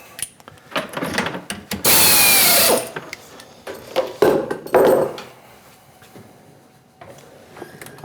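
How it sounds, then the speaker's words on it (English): CNC machine plunging holes with a 5/32 end mill while machining a pin spanner wrench, giving irregular bursts of cutting whine and clatter, with one loud sustained shriek near the start. "The next tool is a 5/32 end mill, and we're going to go through and plunge these holes and clean them up."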